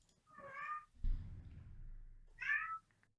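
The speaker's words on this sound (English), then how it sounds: "Just meowing for nothing." A house cat meows twice, about two seconds apart, each call a clear drawn-out cry close to the microphone, with a soft low thump and shuffling in between.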